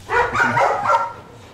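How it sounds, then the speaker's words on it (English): A neighbour's dog next door gives a short burst of two or three barks, moderately close and clear, fading out quickly into quiet. "You can hear the barking."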